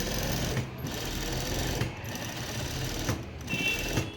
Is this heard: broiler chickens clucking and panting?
no